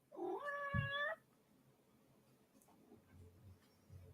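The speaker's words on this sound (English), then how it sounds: "Go away, cat." A cat meows once, clear and fairly close, a drawn-out cry in an indoor room, followed by quiet room sound with faint low thumps.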